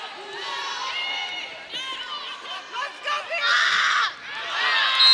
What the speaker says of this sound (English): BYU's crowd has been especially loud since that second set.